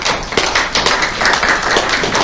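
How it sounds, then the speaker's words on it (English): Audience clapping together at a business talk, a dense, close burst of many hands with quick overlapping claps sustained evenly from start to end. "All right, big clap."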